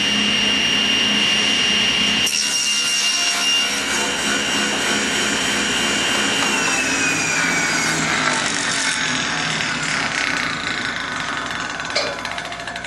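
A table saw runs loud and steady while cutting a 1-inch strip of wood, a continuous whining roar that shifts pitch slightly partway through as the blade works the cut.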